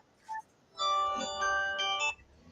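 A phone ringtone plays as a bright electronic melody of sustained tones, preceded by a short blip and followed by a brief quiet tail, close and fairly loud.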